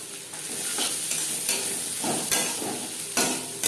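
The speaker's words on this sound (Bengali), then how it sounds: "পেঁয়াজ লালচে করে ভেজে নেব।" Onions fry in a pan for a Bengali ridge gourd and prawn chorchori, a continuous sizzle broken by repeated rhythmic scraping strokes of a stirring spoon, close and fairly loud.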